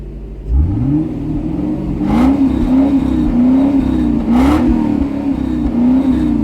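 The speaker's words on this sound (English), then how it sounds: "there is a hint of aggressive V8 underneath, but it's very suppressed" A Toyota Soarer / Lexus SC430 V8 engine note rises as the throttle is blipped, rumbling and revving repeatedly at close range with a couple of brief hissing bursts.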